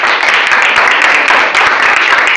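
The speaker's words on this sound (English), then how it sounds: "Everybody clap." Loud, dense clapping from an audience after a school chromatography experiment, continuous rapid hand claps close by with no talk over them.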